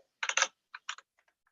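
Keystrokes on a computer keyboard typing out a short line of text, a quick cluster of clicks followed by a few lighter taps trailing off, close and clear with no talking.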